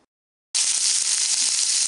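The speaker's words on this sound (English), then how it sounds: "Got the sausage frying" After a moment of silence, a loud, close sizzle of sausage frying in a pan bursts in and crackles on steadily.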